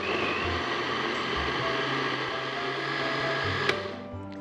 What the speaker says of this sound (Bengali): আমরা ফার্স্টে একটু ব্লেন্ড করে নেব